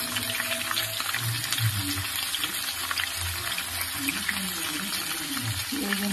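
Garlic frying in hot oil in a pan while making a red chilli and mango ginger pickle, a steady close crackling sizzle with bubbling pops, a voice talking faintly over it.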